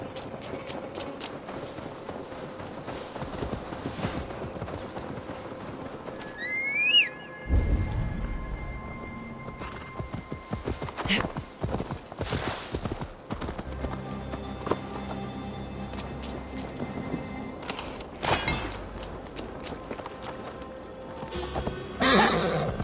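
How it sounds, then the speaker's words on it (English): Horse hooves clip-clop and a horse neighs in Assassin's Creed Valhalla, with steady galloping over ambient game music and a distinct whinny partway through. "Now to deliver Magni his horse."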